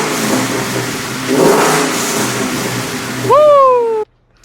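A Ford Mustang with a swapped Coyote 5.0 V8 and 10R80 transmission runs steadily, its engine note swelling briefly in a rev before settling, with a rising whistle-like tone at the end before cutting off abruptly.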